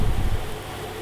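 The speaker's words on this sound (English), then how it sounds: "our onion is sizzling away nicely" Chopped onion sizzling in a hot pan, giving a steady close crackling hiss that fills the whole moment without pause.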